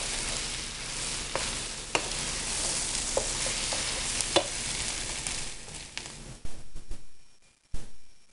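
Thick baked macaroni sauce bubbles and sizzles steadily in a pan while being stirred, with a few sharp spoon scrapes and clicks before it quiets near the end.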